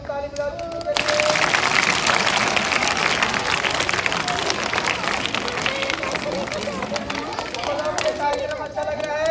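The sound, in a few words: audience applause at school magic show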